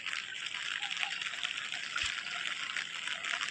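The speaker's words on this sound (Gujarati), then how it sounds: "આ બધું પાણી ગટરમાં જાય છે." Rainwater from heavy rain flowing into a village drain from a market garden, a steady rushing trickle of running water throughout, moderately close and fairly faint.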